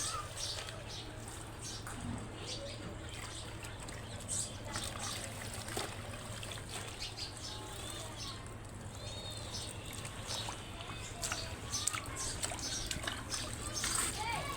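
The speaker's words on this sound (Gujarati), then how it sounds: "ભાજીને ડોલમાં નાખી દીધી છે" Leafy greens are swished by hand in a bucket of water, giving continuous close splashing and trickling over a low steady hum, with faint voices in the background.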